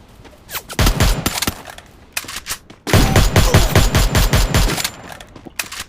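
Rapid bursts of automatic machine gun fire in the Free Fire shooter game, two short volleys and then a longer sustained burst, loud and close with no talking.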